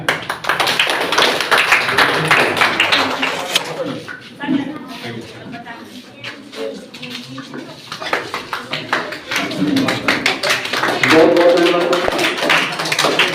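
Clapping from an audience at a school Teacher's Day event where teachers are honoured with gifts, sustained hand applause of many people with voices mixed in underneath, rising again toward the end.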